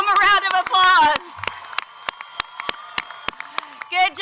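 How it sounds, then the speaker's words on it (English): Scattered, sparse claps ring out one at a time from a small crowd at a 2020 high school graduation ceremony for seniors in Waxahachie, Texas, with voices talking before and after. "Let's give them a round of applause."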